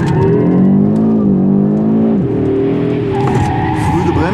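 Loud Audi RS3 8Y engine at speed on a track with a whining front differential and tire squeal, pitch dipping and rising as the car brakes and turns.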